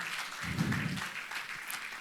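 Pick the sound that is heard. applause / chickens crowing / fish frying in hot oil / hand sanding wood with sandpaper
applause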